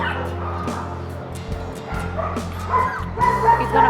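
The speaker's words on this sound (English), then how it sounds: "it's a good dog." Dog barking and yipping up close, with a few whimpers mixed in, during an animal control officer's rounds; repeated sharp barks that grow louder toward the end.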